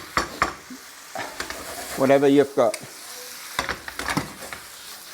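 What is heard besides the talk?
potato noodles with poppy seeds sizzling and stirred in pan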